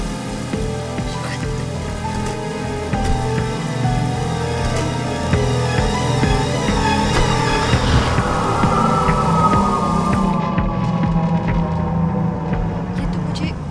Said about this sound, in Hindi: बारिश आ गई, मैंने कहा था ना।